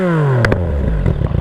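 A Yamaha MT-09 with a Black Widow 200mm exhaust revs hard and the engine note drops quickly, with a brief rough crackle and pop on the overrun, loud and close.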